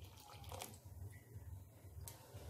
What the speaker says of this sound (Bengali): আরও একটু জল দিয়ে দিচ্ছি।